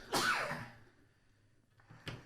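A single sharp sneeze bursts out at close range, then fades into a quiet room, followed by a short thud.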